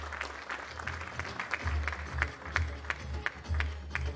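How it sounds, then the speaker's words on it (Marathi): An audience at a Marathi kirtan event launch claps in a steady, rhythmic pulse of applause, moderately loud with a low hum of sound system beneath. "एकदा जोरदार टाळ्या त्यांच्यासाठी वाजवूयात मंडळी"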